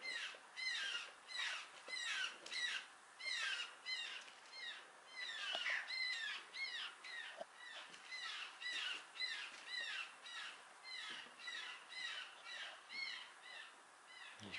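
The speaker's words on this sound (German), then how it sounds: "Na, die Vögel, die schlagen Alarm hier." Crows and other birds caw repeatedly in alarm, a rhythmic series of harsh calls from a moderate distance, quiet overall with no talking.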